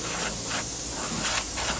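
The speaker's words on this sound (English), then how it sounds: "Now this time I'm going to come in and I'm going to spray, but I'm going to spray a little bit heavier." Klear floor gloss sprayed in a heavier coat from close range, three or four short bursts of loud airy hiss separated by brief pauses.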